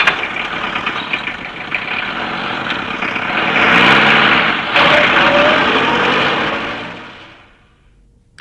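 A vehicle's engine runs loud and close, building to a louder rev as it pulls away, then fades out over several seconds and ends with a short knock.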